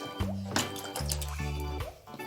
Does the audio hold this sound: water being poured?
yes